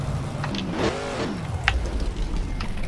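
A truck's engine revs hard at a drag race launch off the trailer, rising to a loud roar for a moment before settling into a rumbling drone.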